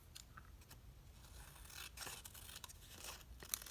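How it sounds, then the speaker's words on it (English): Paper edges being trimmed with scissors, giving soft, faint snips and crinkly scraping rustles in a quiet room, with a few slightly louder cuts near the end. "So we're going to cut the edges off here that we have over the"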